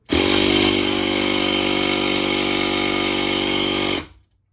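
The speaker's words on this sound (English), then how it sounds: "Now, when we crank the engine over," A nitro RC helicopter engine being cranked over gives a loud, steady buzzing drone that holds for about four seconds before cutting off abruptly into silence.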